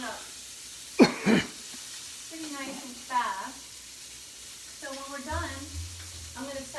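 Scallops sear in a hot pan with a steady, close sizzle and crackle, a sharp spatter burst near the start, and voice-like sounds over the frying.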